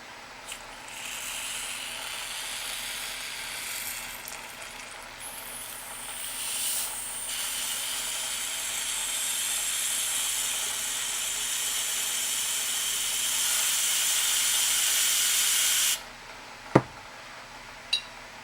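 Aerosol carb cleaner sprayed onto springs in one long, loud, steady hiss lasting many seconds, then cutting off, followed by a couple of sharp metallic clicks, close and with no talk.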